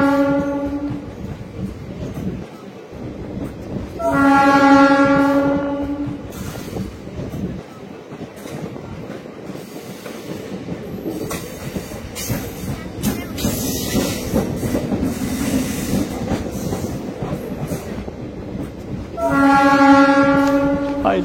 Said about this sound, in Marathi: हा रेल्वे आली.